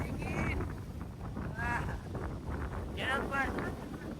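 Strong wind gusting into the microphone at Koliyak on a stormy coast, a steady low rumbling buffet throughout, with people talking over it.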